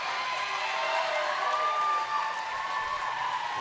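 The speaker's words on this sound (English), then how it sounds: "the crowd is going wild, as they say" Crowd cheering and applauding at a junior roller derby game, a steady, moderately loud wash of clapping and shouting that holds throughout, with some voices standing out above the noise.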